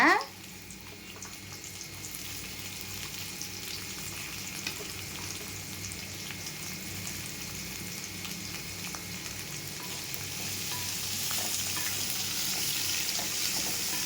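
Chopped onions fry in hot oil for a dried fish thokku, making a steady close hiss and crackle that swells slightly toward the end, with no talking.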